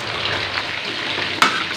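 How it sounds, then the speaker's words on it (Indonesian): Fish frying in a pan with oil, a steady close sizzle throughout and a brief sharper crackle or clatter near the end. "Ini mohon maaf kalau berisik karena sambil goreng ikan."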